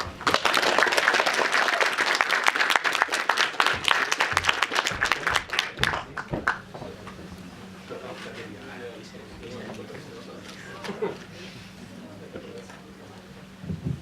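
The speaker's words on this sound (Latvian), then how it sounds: "Paldies, Rusēs, paldies par aplausiem." An audience applauds at a pre-film presentation before a cinema screening: dense, loud clapping for about six seconds, then it thins into scattered claps as a voice begins talking over it.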